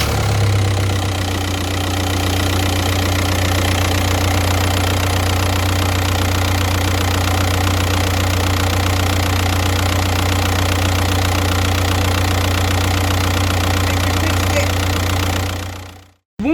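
A car engine idles steadily, a loud, continuous low rumble with a faint knocking texture that cuts off abruptly near the end.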